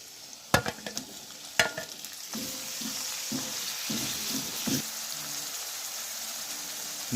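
Tomatoes tipped into a pan of lightly browned onions for a green bean milk curry: a couple of sharp spoon clacks against the pan, then a steady soft sizzle with intermittent scraping stirs.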